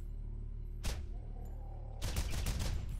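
Rapid automatic gunfire from the video game Borderlands: a short burst, a pause, then a sustained stream of fast, loud, close shots to the end, with no talking over it.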